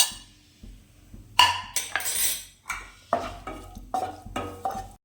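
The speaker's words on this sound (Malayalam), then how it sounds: "ഇനി നമ്മൾ എണ്ണ ചൂടാക്കിയിട്ട് ഇതിനകത്തേക്ക് വെളുത്തുള്ളി, ഇഞ്ചി, പച്ചമുളക് എന്നിവ ചേർത്ത് വഴറ്റുക" Garlic, ginger and green chili are stirred in hot oil for dragon chicken. Metal utensils clatter and scrape against the pan in short bursts, with a faint sizzle in the gaps and quiet pauses between strokes.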